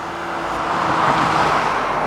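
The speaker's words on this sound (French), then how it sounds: "Allez, maintenant on passe à l'essai de cette bagnole." A Toyota GR Yaris being driven on the road, a continuous engine and road noise swelling slightly as it goes, close and steady with no voices.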